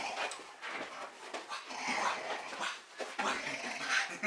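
A pet dog whimpers, yips and pants in short irregular bursts close by, with brief pauses between the excited little cries.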